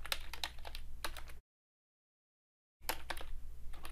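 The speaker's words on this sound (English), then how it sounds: "you type whatever you want" Fast clicking keystrokes on a computer keyboard while typing a new blog post, in two close, busy bursts separated by a stretch of complete silence.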